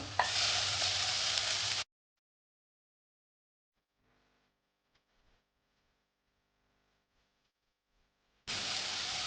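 Onion and tomato fry in a pan for paneer bhurji, a loud, dense sizzle that cuts off after a couple of seconds, leaves near silence with a few faint clicks, then bursts back at the end. No one speaks.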